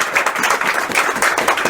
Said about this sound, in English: So I'd like to now give him a round of applause.